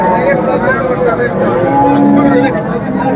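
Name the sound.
cattle at a livestock market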